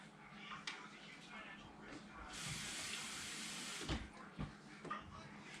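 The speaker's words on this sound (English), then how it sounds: "Now I'm going to run some water in this and rinse it around." Tap water gushes steadily into a pot being rinsed out after canning ground beef, a close, hissing stream lasting a couple of seconds, followed by sloshing and clunks of the pot as a voice talks nearby.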